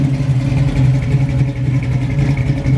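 A 1969 Ford Mustang Fastback with a 351 Windsor V8 rumbles loudly and continuously close by, a deep throbbing engine note with slight swells in revs and no voices.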